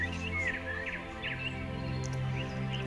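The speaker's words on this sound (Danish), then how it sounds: "Det eneste, du kan høre, er vinden i træerne og fuglene, som synger." Songbirds chirp in short repeated phrases over a steady low background hum in a calm meditation soundscape, the calls moderately distant and soft, with no voices.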